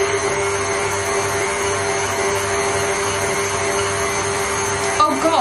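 Electric whisk running in batter for easter egg blondies, a steady close motor whir with a constant tone throughout and a brief clatter near the end.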